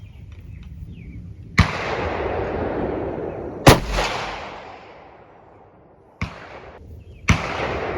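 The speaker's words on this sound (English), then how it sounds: "I'm shooting a varmint rifle with varmint ammunition" Varmint rifle firing varmint ammunition outdoors: four sharp, loud cracks spread over several seconds, each followed by a long rolling echo that fades away.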